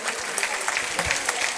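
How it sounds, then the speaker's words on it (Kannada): An audience at a Kannada association literary gathering in Chembur applauding Kannada-medium students, a steady wash of crowd clapping throughout, dense and moderately near. "ದೊಡ್ಡ ಚಪ್ಪಾಳೆ ಬರಬೇಕು ನಮ್ಮ ಕನ್ನಡ ಮಾಧ್ಯಮದ ವಿದ್ಯಾರ್ಥಿಗಳಿಗೆ."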